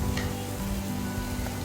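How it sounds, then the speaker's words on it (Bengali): Carrots and other fried rice ingredients sizzle steadily in a hot pan, a continuous close frying hiss with faint stirring scrapes and no talking. "সবগুলো উপকরণ দিয়ে আমরা এখন মিক্স করে লাল লাল করে ভেজে নেব।"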